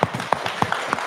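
Audience clapping after a lecture, a modest scattering of individual claps in an uneven rhythm, fairly close and moderately loud, with no voices.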